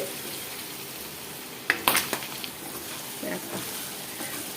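Food frying in a pan gives a steady sizzle with a few sharp pops and clatters partway through, and faint voices sit underneath.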